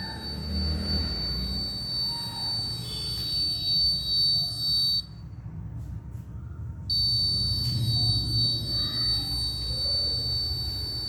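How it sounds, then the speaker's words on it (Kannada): A smoke detector buzzer sounds as a steady, loud, continuous high tone that holds for several seconds, cuts out briefly and then resumes, with low room rumble underneath. "ಬಜರ್ ಆನ್ ಆಗುತ್ತೆ, ಬೀಪ್ ಸೌಂಡ್ ಬರುತ್ತೆ"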